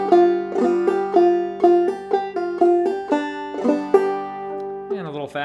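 A clawhammer banjo picks the old-time tune June Apple in a bright, steady rhythm of ringing plucked notes, close and clear. A voice briefly enters at the very end.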